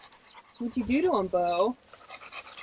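A farm dog pants rapidly and steadily up close, with someone talking over the breathing for most of the moment.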